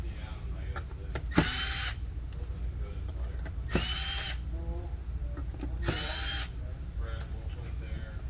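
Power drill or screwdriver backing out screws from the rear cabinet of a medical monitor, three short whirring bursts spaced a couple of seconds apart, close and loud over quiet handling sounds.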